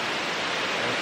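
A waterfall near Paraty, Brazil, rushes as a steady, even broadband roar, constant and moderately loud with no breaks, like a continuous hiss of falling water heard from nearby.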